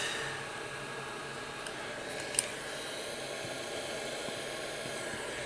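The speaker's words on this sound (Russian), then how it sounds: "Включаем фен." Steady airy hiss of a hot air rework station set to 320 degrees, running continuously at close range over a Samsung S5600 phone circuit board, even and unbroken, with a faint click partway through.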